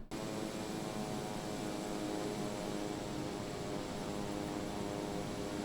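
Steady, loud drone of a Pilatus PC-12 turboprop taxiing in Microsoft Flight Simulator, a continuous engine hum and whine with a constant high tone, unbroken throughout with no talking.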